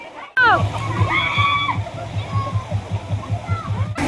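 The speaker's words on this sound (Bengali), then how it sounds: "দেখো কি সুন্দর ঝর্ণাটা নামছে, দারুণ লাগছে কিন্তু" A waterfall at a water park rushes and splashes continuously with a broad roar, while voices call out and someone speaks over it.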